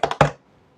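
Geonworks Raptor mechanical keyboard switches give three quick, crisp, snappy clicks close up, two close together and a third a little louder, with no talk.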